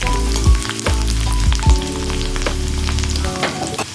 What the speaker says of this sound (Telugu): సన్నగా కోసుకున్న అల్లం ముక్కలు వేసి వేయించుకోవాలి.